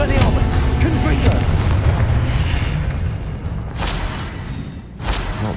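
Confringo spell blasts in Hogwarts Legacy combat, a continuous loud rumbling barrage of explosions with sharper bursts near the end, layered under game voices.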